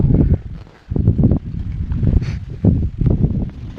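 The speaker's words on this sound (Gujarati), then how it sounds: "સરસ મજાનો પવન જોરદાર આવે છે" Loud gusts of strong wind on a farm buffeting the microphone in uneven surges, low and rumbling, with brief lulls between blasts.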